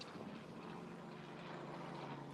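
Propeller aircraft flying over an outdoor memorial gathering, a steady droning engine hum overhead, fairly faint and continuous with no talk.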